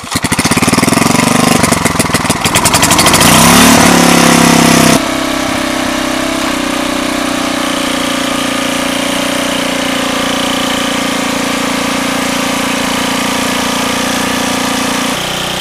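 A free roadside snowblower, just repaired with fresh engine oil and topped-off auger gear oil, is pulled into life on choke; after a few seconds of rough, loud revving it settles into a steady, close idle that continues alone.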